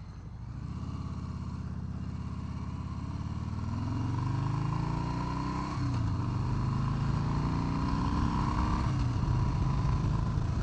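A Harley-Davidson Sport Glide motorcycle engine rumbles close by as the throttle is pulled, a deep steady roar that rises in pitch and holds throughout.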